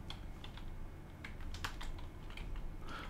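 Fingers type a short command on a computer keyboard, a quick run of soft clicking keystrokes over a low background hum, close and quiet, no voices.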